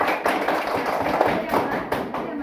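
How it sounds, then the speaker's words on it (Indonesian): A group of fourth-grade schoolchildren in an elementary classroom claps in a dense, continuous patter of hand taps for a couple of seconds, close by, with voices mixed in. "Kita berikan aplaus dulu ya."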